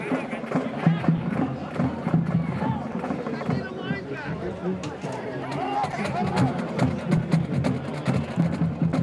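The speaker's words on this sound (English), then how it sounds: "Got a pretty good crowd for a beautiful Saturday." Crowd at a football game at Doyle Field on a Saturday, a steady murmur of many voices and cheering in an outdoor stadium, with people talking nearby over the hubbub.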